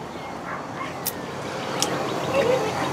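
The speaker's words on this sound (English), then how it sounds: "See, I hear some dogs barking." Dogs bark somewhere off in a backyard, faint and intermittent short yaps over a steady outdoor background.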